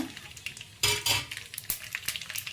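Spices crackle and sizzle in hot oil while a spoon clinks and stirs against the pan in quick, irregular bursts.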